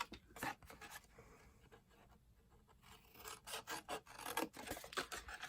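Scissors cut through paper flaps on a handmade favor box, giving soft rasping snips in uneven bursts, quiet and close, with a brief pause in the middle before a quicker run of cuts.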